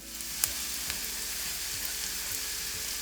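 Chopped garlic and onion frying in a pan over medium heat, a soft, even sizzle with occasional light crackles and a small tap near the start, close and quiet, no voices.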